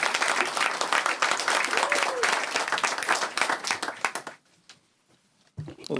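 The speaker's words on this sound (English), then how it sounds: "we all please give a round of applause for our very own Prime Minister, right? Honorable Justin Trudeau" Dense, sustained audience applause for a prime minister at a Tamil Heritage Month event in Ottawa, loud and continuous before dying away abruptly, with brief sounds returning at the end.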